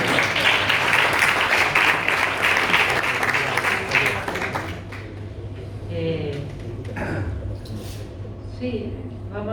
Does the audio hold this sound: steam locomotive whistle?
no